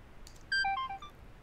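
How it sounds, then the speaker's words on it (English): A phone ringtone used as an alarm in the video game Calling Cipher, a short burst of sharp electronic beeps stepping down in pitch, clear and loud over a faint background hiss. "Is that my phone?"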